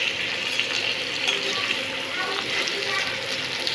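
Potatoes frying with spices in a pan, a steady, fairly loud hissing sizzle that runs without break.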